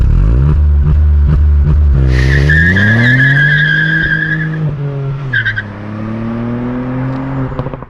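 Ford Fiesta ST Mk8 three-cylinder hatchback pushed hard on a track, loud and close, its engine note climbing and holding under load while tyres squeal through a corner, then easing off near the end.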